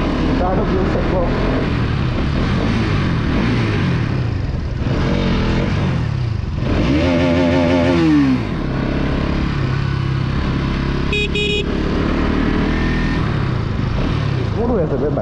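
A Bajaj Pulsar NS200 motorcycle is ridden along a road, its engine humming steadily with a few rises and falls in revs, mixed with wind rush over the helmet-mounted camera.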